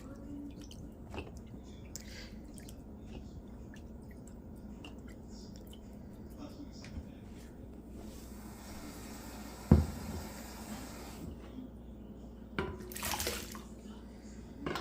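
Soaked dried snails are washed by hand in water, giving quiet sloshing, squishing and dripping sounds, with a couple of sharper splashes and a brief louder gush near the end.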